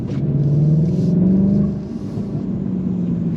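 A VW Golf GTI 8.5 pulls away hard on launch control, its engine note a loud, steady low drone rising in pitch, then easing slightly as it keeps pulling, with no talk over it.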